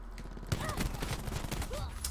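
Burst weapon firing in a video game, a rapid close run of clattering shots starting partway in and continuing to the end, with game sounds mixed in.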